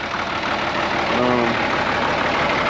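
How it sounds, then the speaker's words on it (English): A Case 970 tractor engine idling steadily and loudly up close, an even mechanical drone with a possible slight miss, running outdoors after being pulled from weeds and grass. "Idling, running pretty good."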